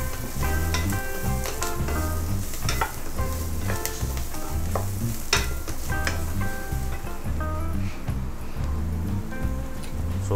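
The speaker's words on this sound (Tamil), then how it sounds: "அப்புறமா வந்து இது கொஞ்ச நேரம் வதங்கட்டும்" Onions sautéing in a pan for Chennai-style Bombay chutney sizzle steadily and crackle, with occasional clinks of stirring, close and continuous.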